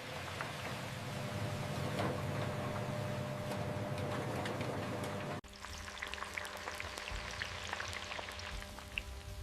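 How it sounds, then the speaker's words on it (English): Potato chip slices entering large industrial frying machines, a dense crackling, spattering hiss with rain-like patter that briefly drops and then resumes with sharper pops. "Slices enter large frying machines."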